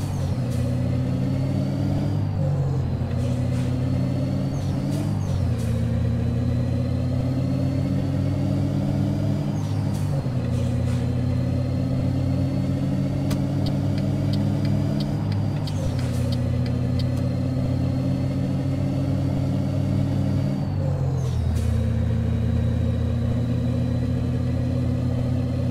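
Scania P 310 truck engine in the Euro Truck Simulator 2 game, a steady loud droning rumble that climbs in pitch as it accelerates, drops at each gear shift and climbs again, repeating several times with no talk.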